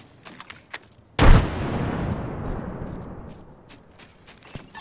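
A frag grenade detonates in a military shooter game, one loud close blast with a long rumbling decay, preceded and followed by faint scattered clicks and taps.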